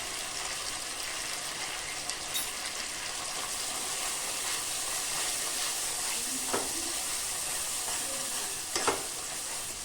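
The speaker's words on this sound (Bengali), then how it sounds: "আমি মশলাটাকে ভালো করে কষিয়ে নেব।" Spice paste with cumin powder frying and being stirred in a pan for chicken curry, a steady loud sizzle with occasional scraping stirs and small spatters throughout.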